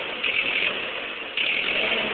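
A Ford 8N tractor engine idling roughly, a continuous close, loud, band-limited engine drone with a slight surge partway through, no talking.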